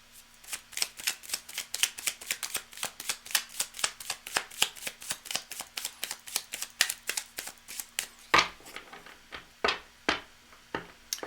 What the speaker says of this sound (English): Cards are shuffled, cards are going to be cut, then we're going to read.